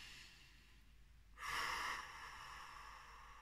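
One deep, audible breath in through the nose, a soft rushing swell after a quiet pause, fading into a faint exhale against near silence.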